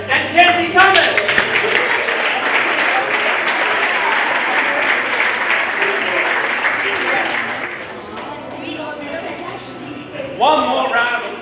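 A crowd at an awards presentation and party gives winners a sustained round of clapping that fades after about eight seconds, when a speaker's amplified voice takes over.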